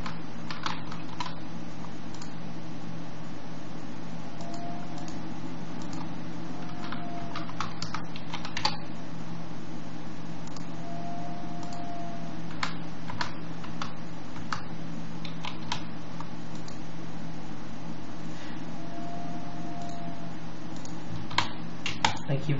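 Keys on a computer keyboard are tapped in short irregular bursts with pauses while an email address and password are entered, quiet clicks over a steady low hum.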